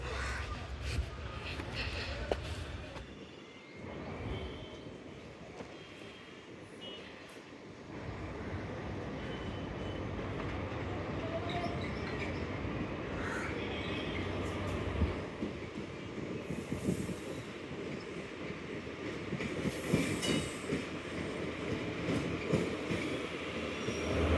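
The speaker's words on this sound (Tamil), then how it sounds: "கண்ணூர் எர்ணாகுளம் இன்டர்சிட்டிங்க." The Kannur-Ernakulam Intercity passes near Muzhappilangad beach, with a continuous loud rumble of carriages and wheels on the rails, occasional squeals and sharp clatter, and a few faint bird calls.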